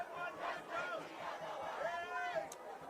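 Ugandan fans in the crowd at a Kenya versus South Africa rugby final in Harare, shouting and cheering in a loud continuous chant-like roar of many voices.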